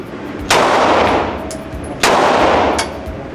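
Two loud, sharp gunshots about a second and a half apart, each followed by a fading echo.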